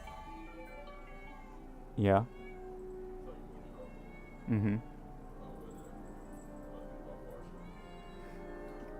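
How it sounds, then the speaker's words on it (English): A house cat meows excitedly at feeding time, two loud drawn-out meows a couple of seconds apart, close by, with light background noise and brief murmured replies from a person. "since they feed the cats when they get home, the kitty goes crazy"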